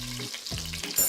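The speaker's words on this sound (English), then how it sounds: "Be careful, it's starting to sizzle back up." Chicken pieces sear in a hot pan for arroz con pollo, a loud, steady sizzle and crackle of frying with brief stirring scrapes, close up and without voices.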